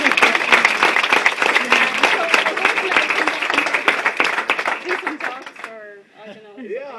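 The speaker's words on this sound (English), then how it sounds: "Round of applause for Elaine." Enthusiastic applause from a small group at a farewell, dense clapping running for about five seconds before fading, followed by a brief spoken voice.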